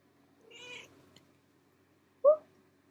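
A house cat gives two short vocal sounds: a faint, breathy meow near the start, then a louder, sharper meow about two seconds later, with quiet room stillness between them.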